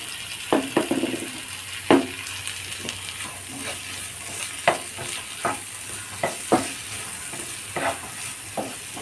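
Potatoes fry in a hot pan for a cabbage masala roast, a constant sizzle broken by repeated scraping stirs and utensil knocks against the metal, close and clear with no talking.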